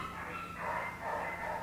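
Dogs barking at the Kokomo Humane Society animal shelter, a few bursts of moderately loud barks over a steady background hum, with no talking.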